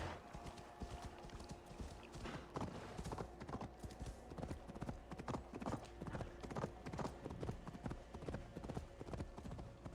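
A horse ridden in the video game Assassin's Creed Valhalla clops along in a steady, quick rhythm of hoofbeats, continuous and close, over a low ambient background.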